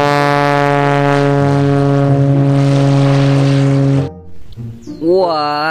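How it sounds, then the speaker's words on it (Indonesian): A toy airplane gives off a loud, steady electronic engine drone that cuts off abruptly, followed by a short wavering, gliding tone. "yang ini juga kapal terbang toy plane teman-teman"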